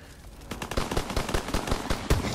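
Rapid, close gunfire from Call of Duty: World War II, with a dense burst of automatic shots cracking in quick succession and one heavier blast near the end.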